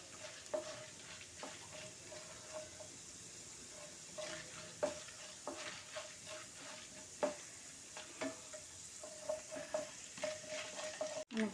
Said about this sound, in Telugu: ఆవాలు, జీలకర్ర, పచ్చెనగపప్పు, మినప్పప్పు వేసాను.